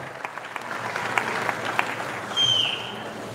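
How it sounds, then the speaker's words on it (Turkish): Quiet crowd applause greets a BMX team captain at a World Cup launch event, scattered claps swelling into a steadier round, with a brief high whistle-like tone near the end. "Bir kez daha alkışlar onun için gelsin."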